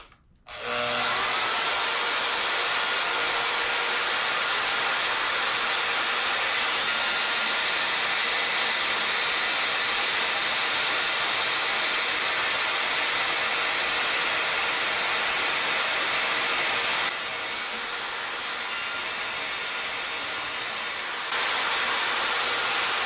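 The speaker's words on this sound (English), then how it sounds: "Let's cut some aluminum" A portable band saw cuts through aluminum for about twenty seconds, a loud, steady whine with a bright blade hiss that drops slightly near the end, with no talking over it.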